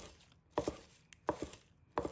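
A knife chops spring onions into short pieces on a cutting board, with three quick pairs of crisp, close strikes separated by brief pauses in a quiet room.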